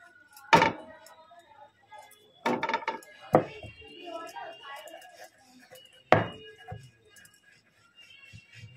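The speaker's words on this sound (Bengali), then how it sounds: "ডো কেটে নেব।" A knife chops through dough for chusi pitha on a board, four or five sharp separate knocks spaced a second or more apart, with quieter kitchen handling in between.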